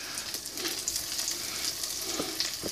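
Mac and cheese sticks deep-fry in super hot oil, giving a soft, steady crackling sizzle with scattered small pops, heard alone at low volume.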